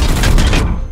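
Weapon fire in the Warhammer 40k: Chaos Gate - Daemonhunters video game comes as a loud, rapid burst of shots that blur into a dense crackling volley, then cut off abruptly.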